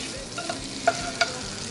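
Chicken breast frying in butter, olive oil and thyme, a soft steady sizzle with a few quick stirring clicks over a brief moment.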